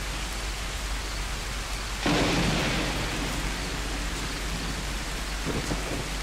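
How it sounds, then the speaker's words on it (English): Steady heavy rain pours outdoors throughout, with a sudden louder rush of downpour or thunder-like rumble near the middle, no voices present. "It's pretty rainy out there."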